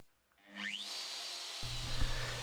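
A homemade CNC machine spins up and cuts solid stone with a solid carbide end mill, a rising whine settling into a steady high grinding hiss, joined by a lower hum as the cut deepens, close and continuous.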